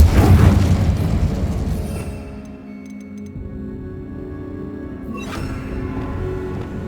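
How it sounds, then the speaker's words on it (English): The Incendio fire spell cast in Hogwarts Legacy, opening with a loud whooshing burst of flame that fades into a low crackling rumble, followed by a second swelling rush of fire. "Incendio."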